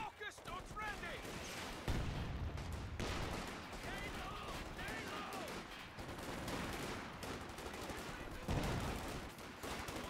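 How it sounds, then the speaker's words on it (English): A .50 cal machine gun fires in a Company of Heroes 2 match, fast bursts of gunfire crackling amid a busy battlefield mix of shots and explosions, with a voice talking over much of it. "50 cal opening fire,"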